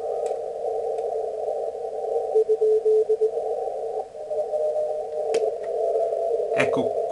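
A very weak Morse code CW signal received on an Elecraft K3 transceiver, a steady tone held under hiss and static with keyed dots and dashes barely standing out.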